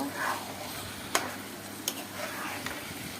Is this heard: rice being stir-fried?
yes